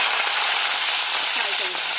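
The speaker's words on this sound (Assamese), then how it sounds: "এতিয়া মই এইখিনি তেলতে ফুলকবিখিনি ফ্ৰাই কৰি ল'ম।" Cauliflower pieces fry in hot oil, giving a steady, close hiss of sizzling with fine crackles throughout and no talking.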